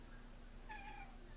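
Garfield, a mischievous orange pet cat, gives a single short meow, faint and somewhat distant, rising briefly out of a quiet room.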